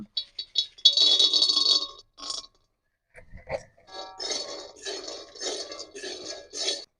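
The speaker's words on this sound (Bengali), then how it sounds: "উনুন ধরিয়ে কড়াই বসিয়ে দিয়েছি এবার আমি বাদামটা ভেজে নেব" Peanuts dry-roasting in a wok over a lit clay stove, with repeated clinks and scraping rattles of a spatula stirring the nuts against the metal pan, in bursts with short pauses.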